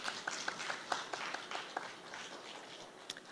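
Graduates and families applaud at a school graduation ceremony, a faint, distant patter of clapping with a few sharper individual claps standing out.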